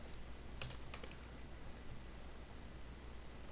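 Light typing on a computer keyboard while entering text into STATA, a short cluster of soft key clicks against a steady hiss, faint and close, with no voices.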